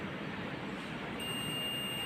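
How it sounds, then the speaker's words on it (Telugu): A multimeter gives a steady high electronic beep while its probes test a capacitor's terminals. The tone starts partway through, close and clear over faint background hiss. "మైనస్ అనేది బీప్ సౌండ్ రావాలి"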